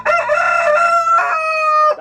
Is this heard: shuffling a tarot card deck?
no